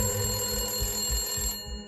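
A telephone bell rings steadily in short repeated bursts, fairly close and alone, then cuts off abruptly near the end.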